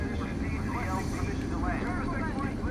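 An aircraft engine drones in the video game Delta Force: Black Hawk Down, a steady, fairly faint whirring hum with faint wavering tones, while someone talks over it.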